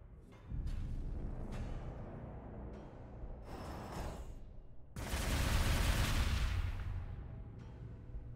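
Gunfire in the strategy game Warhammer 40,000 Gladius: scattered shots and volleys crackle across the field, ending in a sustained heavy barrage of firing.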